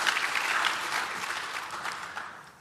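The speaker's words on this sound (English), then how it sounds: "let's just give them a round of applause." An audience claps steadily throughout at a broadcast ambassador speech event, a dense, even round of applause at moderate level with no voices over it.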